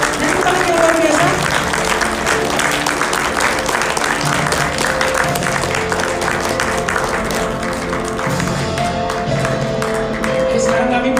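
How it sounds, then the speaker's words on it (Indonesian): Audience applause at an award ceremony, a dense, sustained clapping that fills the whole stretch at high level, with a voice speaking over it at times. "Tepuk tangan yang luar biasa."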